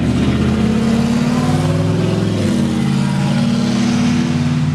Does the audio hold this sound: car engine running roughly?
yes